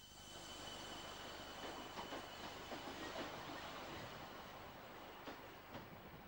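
A UK electric passenger multiple-unit train on a branch line rumbles past steadily, wheels clicking over rail joints with a faint squeal, continuous and fairly close throughout.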